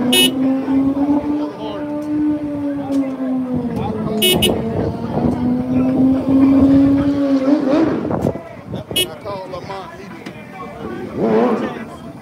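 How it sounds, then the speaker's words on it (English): Race cars at a race track rev up before setting off, their engines whining and rising in pitch at close range, with a few short horn-like toots and people talking over the noise. "Looks like these cars are about to go too."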